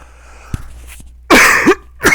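Several harsh coughs burst out close by, a couple of hacking fits in quick succession after a brief quiet moment.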